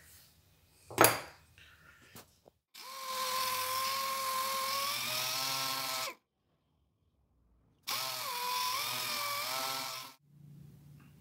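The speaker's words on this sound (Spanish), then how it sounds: "lo vamos a lijar perfectamente con una lija 320" Two long stretches of harsh, whirring abrasive sound with a humming motor pitch, sanding chrome parts with 320-grit sandpaper, separated by silence and preceded by a single knock.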